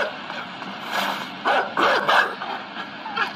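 A video game dog yips and barks in a few short bursts, close and fairly loud, with faint background game sound.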